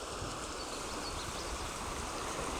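River water runs over shallow rapids beside a bridge on the Bayfield Peninsula along Lake Superior, a soft, steady broadband rush heard at a distance, faint and unbroken.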